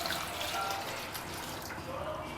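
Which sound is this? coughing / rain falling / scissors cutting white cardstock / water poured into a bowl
water poured into a bowl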